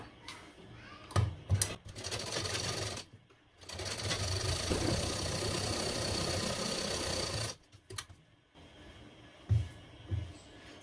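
Blouse fabric is stitched on a sewing machine in one long steady run, with shorter bursts and brief stops before and after it, close and fairly loud.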